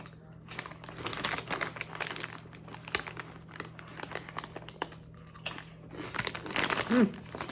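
Crunchy kettle corn PopCorners chips being chewed up close, a steady run of crinkly, crackling bites through the whole stretch with a louder burst near the end.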